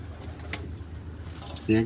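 Pigeons, including a black one, give a soft cooing burst near the end of the clip, heard close up over a low background murmur. The loft is kept by a hobbyist who feeds the birds.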